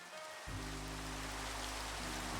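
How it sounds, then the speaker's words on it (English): Rain falling in Minecraft, in a hardcore Skyblock world, starts after a brief quiet moment and then becomes a steady, even hiss beneath sustained low game-music tones. "I think it's raining."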